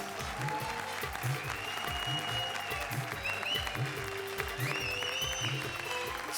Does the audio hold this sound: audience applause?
yes